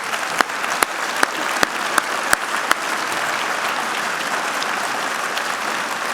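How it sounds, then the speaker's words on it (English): Sustained applause from an audience at a 2016 preservation awards ceremony in Boston, filling the room steadily, with a few sharp louder claps standing out near the start. "let's have one final round of applause for all our winners and those who support the Alliance"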